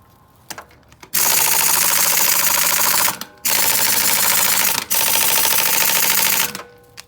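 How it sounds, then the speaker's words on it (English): A pneumatic impact gun run at 90 psi hammers on car lug nuts in three loud, sustained bursts of dense rattling, separated by brief pauses. "Now let's see what the pneumatic gun does at 90 psi."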